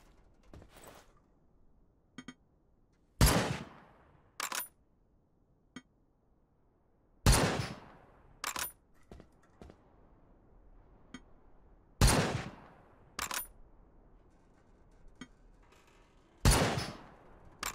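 A powerful turret gun in the survival game Dysmantle fires single loud blasts at irregular intervals, each sharp crack followed by a short decaying tail and a smaller echoing report, with near silence between shots.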